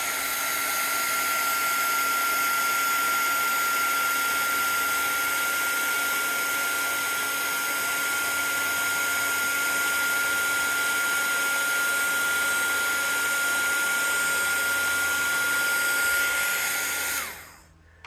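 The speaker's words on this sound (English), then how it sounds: "Let's see what happens when I put my heat gun to it." A heat gun blows steadily on embossing ink, a loud, continuous whooshing roar with a fixed whine that runs unbroken for most of the stretch before cutting off abruptly near the end.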